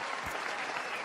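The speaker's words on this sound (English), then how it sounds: "Clap it up, everybody." Steady crowd clapping, moderately faint and continuous for the brief moment, with no voices over it.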